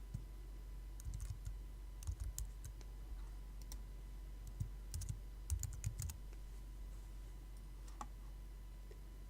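Soft, quiet clicks of a computer keyboard while title text is typed into editing software, coming in short irregular bursts over a low background hum.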